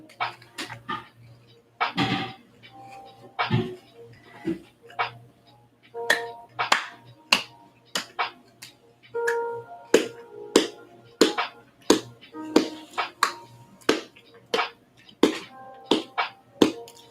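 Hands clap over and over in a steady run of sharp, close claps, roughly one or two each second, to cheer on MrBeast contestants, with a low constant hum beneath and no talking.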